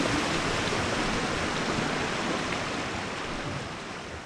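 A small waterfall at the Quebrada de las Gachas gorge in Santander pours in a steady, dense roar of rushing water, close and constant throughout with no voices.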